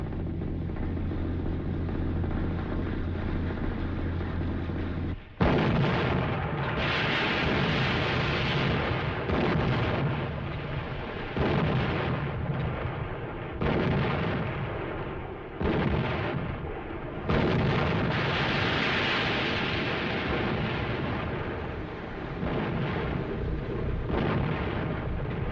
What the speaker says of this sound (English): Stand by to commence firing.